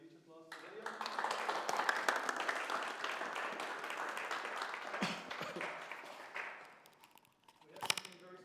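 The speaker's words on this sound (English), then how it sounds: "Can you give a huge applause for William?" Audience at a data science insights event in Antwerp applauds a presenter, dense clapping swelling and holding for several seconds before fading, then a brief final burst, with a voice speaking over it.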